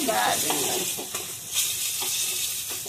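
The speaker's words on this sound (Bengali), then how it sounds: "এরকম মাছটা ভাজা করে নেবো" Fish sizzles loudly in hot oil, a dense crackling hiss with a few scraping stirs of a utensil, close up and with no talking.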